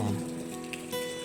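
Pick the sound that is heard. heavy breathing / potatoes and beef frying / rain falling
rain falling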